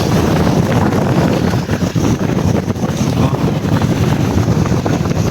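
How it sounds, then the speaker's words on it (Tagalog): Strong typhoon wind roars across Manila Bay, buffeting the microphone in a dense, loud, unbroken rush with gusty swells throughout. "grabe ang lakas ng hangin dito"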